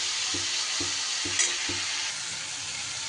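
Pumpkin fries gently in a pan over medium-low heat with a soft, steady sizzle, while a utensil scrapes and stirs in four evenly spaced strokes.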